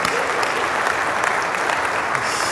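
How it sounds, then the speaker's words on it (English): A church congregation at a Catholic parish in Thibodaux, Louisiana claps together in a dense, steady round of applause that fills the room throughout. "One more round of applause for my mom,"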